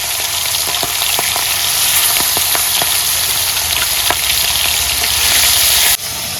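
Black cumin seeds fry in hot oil with a loud, dense, steady sizzle and a few sharp crackles and pops, close up, with no voices, ending abruptly.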